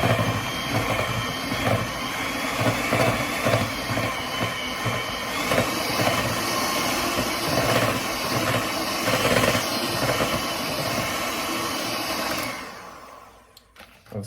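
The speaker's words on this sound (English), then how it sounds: "So I'm just going to whisk this together now," Butter, icing sugar and a pinch of cinnamon whisked together by hand for cake icing, a steady close scraping and whirring with rhythmic strokes that runs continuously and loudly, then stops near the end.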